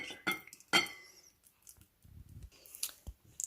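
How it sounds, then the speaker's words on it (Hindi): Sheer khurma being spooned from a pot into a bowl: quiet, sparse clinks and scrapes of a utensil against metal and glassware, with soft gaps between the knocks. "अब हम इसको बाउल में शिफ्ट कर लेते हैं"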